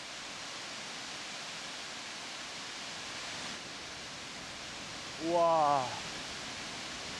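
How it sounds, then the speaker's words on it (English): A roadside waterfall about 100 m high in Bhutan pours as a steady, broadband rushing wash, heard continuously from a distance, with a short exclaimed voice near the end. "I come upon a waterfall that captivates my eyes and ears"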